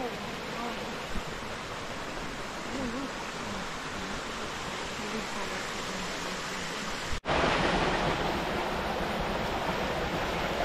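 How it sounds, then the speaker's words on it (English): A small mountain stream runs along the bottom of a wooded valley, giving a steady, fairly close rush of flowing water that briefly drops out, then returns a little louder. "there's a cool little stream with water flowing down through the bottom of this valley"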